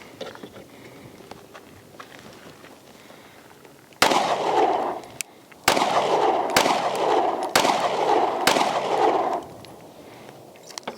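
Stock Hellcat Pro pistol fired in a run of about five sharp shots, nearby and loud, spaced roughly a second apart after a quiet lead-in.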